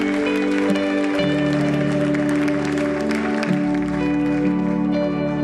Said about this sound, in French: une main d'applaudissement pour le roi des rois ce matin